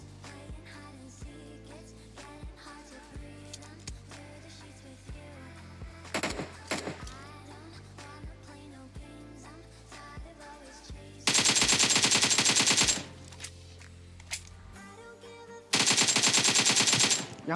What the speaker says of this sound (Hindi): मैं हिट देने की कोशिश करता हूँ, मगर सारी गोलियाँ दीवार में लग जाती हैं